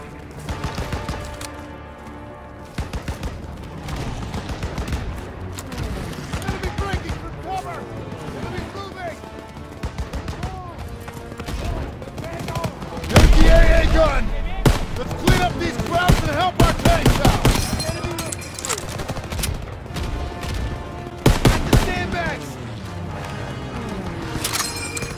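Battle din from the WWII shooter Call of Duty WWII, with rifle and machine-gun fire and heavy flak gun bursts against Stuka dive bombers, dense and continuous under shouted voices, with a louder stretch of firing near the middle.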